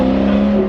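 A straight-piped BMW M3 exhaust roars loud and close in a steady, droning rumble with no pauses.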